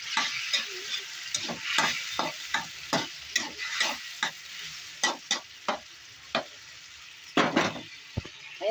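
A spatula stirs sautéed sardines with calamansi in a frying pan, giving about twenty sharp scraping and clacking strokes in an uneven rhythm over a steady, close sizzle, with no talking.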